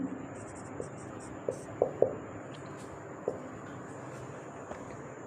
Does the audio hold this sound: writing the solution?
yes